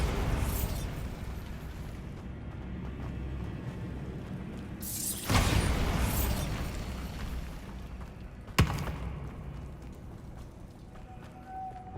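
A Bombarda spell blast in the video game Hogwarts Legacy, a booming explosion over a dense, steady game-ambience bed, followed later by a sharp single pop-like burst.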